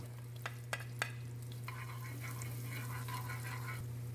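Garlic sautés in melted butter in a pan for a Bicol Express chicken breast dish. A few sharp taps come first, then a faint, steady sizzle over a low electrical hum.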